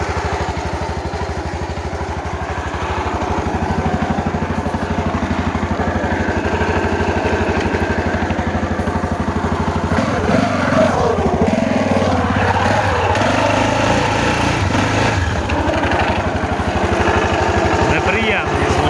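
Yamaha Grizzly ATV engine running in a repair shop, a steady, close, rhythmic mid-pitched putter with a fluttering idle beat, under talk that carries on throughout.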